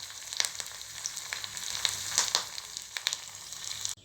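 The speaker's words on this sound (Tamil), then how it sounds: "இது எல்லாத்தையும் தாளித்து எடுத்தாச்சு. நம்ம இப்போ இதை பொங்கலோடு ஆட் பண்ணிக்கலாம்." A hot tempering with curry leaves poured into bajra pearl millet ven pongal sizzles in a steady crackling hiss with scattered pops, close and moderately loud, cutting off abruptly at the end, with no speech.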